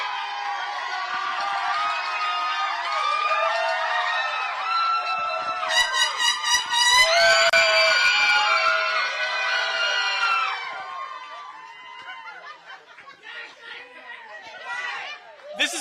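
Crowd noise at a Guam teacher of the year awards celebration: dense chatter and cheering voices swell, peak with loud horn blasts in the middle, then thin out toward scattered shouts near the end.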